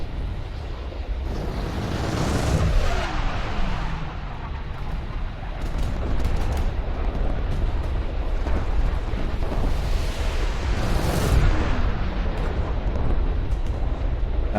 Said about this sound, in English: Now begins the fun part where I have to try and dodge all the R60s and cannons.